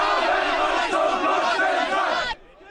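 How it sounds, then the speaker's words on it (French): Anti-Pegida counter-protesters in Dresden boo and jeer loudly as a Pegida march passes, a dense close crowd roar that cuts off abruptly near the end. "sous les huées des contre-manifestants anti-Pegida."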